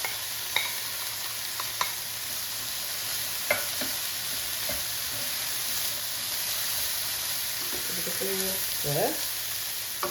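Minced meat frying with garlic in a pan, a steady soft sizzle with scattered scraping taps as it is stirred, fairly quiet, with a brief spoken word near the start.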